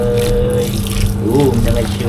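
Tap water runs steadily into a sink while hands are washed, a close, continuous splashing stream with a voice talking over it.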